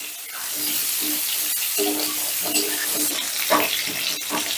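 Pointed gourd pieces frying in oil with a pinch of turmeric, a dense, steady hiss close up with a few stirring scrapes and soft knocks.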